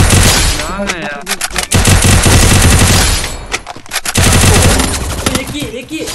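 Rapid automatic gunfire from a close-range multiplayer shooting video game, loud dense bursts of machine-gun fire with brief gaps between volleys.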